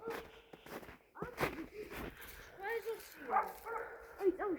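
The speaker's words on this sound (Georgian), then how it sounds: "ძაღლი მოდის." A dog near a hillside house in Kojori, Georgia, gives soft whimpers and short yips as it comes closer, with footsteps and people talking over it throughout.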